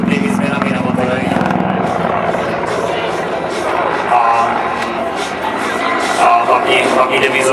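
A Mi-35 military attack helicopter flies at a Czech NATO and air force airshow, its rotor and engine roar loud and continuous, with a commentator talking over it throughout.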